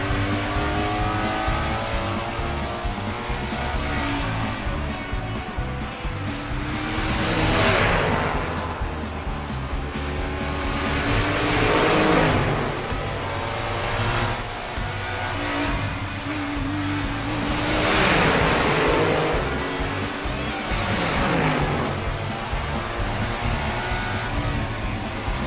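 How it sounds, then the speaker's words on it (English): Cartoon race cars speed through a close race, their engines roaring and revving continuously with repeated swelling passes as cars rush by, loud and up close, with no talk over them. "That's a very close race."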